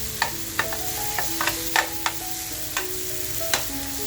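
A spoon stirs masala through squid frying in a pan, sharp scraping clinks repeating irregularly over a steady close sizzle.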